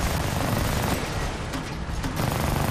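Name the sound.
gunfire from a gun in the video game Army of Two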